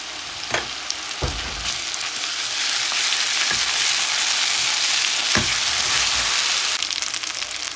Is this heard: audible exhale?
no